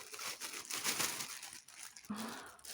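A plastic gift package, a small Ukrainian-style packet, is opened by hand with close, steady crinkling and rustling of the wrapping and a brief sharper crackle near the end.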